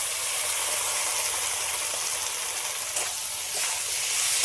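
Ground masala paste, turmeric, tomato and green chilies fry in a hot pan, giving a steady, close hiss and sizzle that holds evenly throughout with a few brief crackles and no voices.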